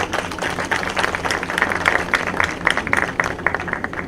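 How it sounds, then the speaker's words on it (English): An audience at a university celebration day claps steadily in a dense, continuous round of applause heard from within a large crowd. "Let us give Vice Chancellor a big round of applause."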